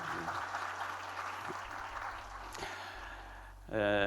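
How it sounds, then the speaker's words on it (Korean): A church congregation claps together in a steady, even wash of applause that fills the room, then a voice starts speaking as the clapping fades. "우리 박수 한번 하시기 바랍니다"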